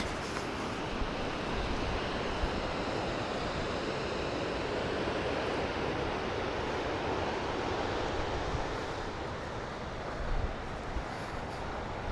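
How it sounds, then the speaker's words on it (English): Waves roll onto a very big, nearly empty beach, giving a steady, broad wash of surf noise that holds evenly throughout, with some wind rumble and no clear breaks between waves. "So this is a very big beach, as you can see."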